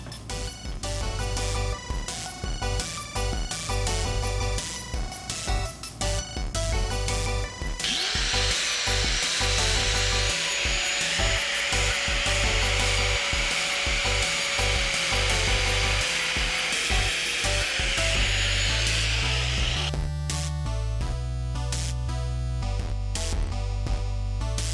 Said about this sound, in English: We're gonna cut it right about here.